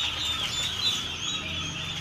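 Guinea fowl chicks from a brooding stock packed in a plastic crate in Barpeta Howly, Assam, keep up a dense, continuous chorus of high, thin chirps and peeps at close range.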